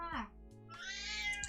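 A pet cat meows twice, close and clear, the first cry short and the second a longer drawn-out wail, with people talking softly around it.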